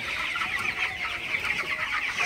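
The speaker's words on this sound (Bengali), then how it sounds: "তো আপনারা দেখতে পাচ্ছেন আমার ব্রয়লার মুরগি" Broiler chickens in a poultry shed in the evening, a steady chorus of soft clucks and chirps running throughout with no pauses, fairly close and moderately loud.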